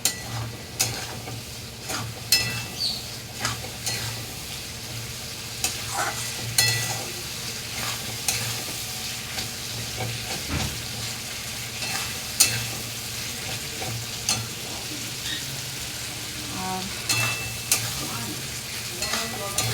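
Masala paste for a Bengali dhoka recipe stirred and fried in a pan over high flame, a steady sizzle broken by repeated scraping strokes of a spatula, close and continuous with no talking.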